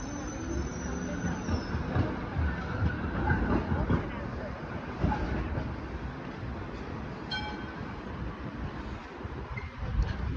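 A B2-class Route 67 tram passing at Anzac Station, a rolling rumble with some wheel squeal and a brief high tone near the middle, under nearby talk and station noise.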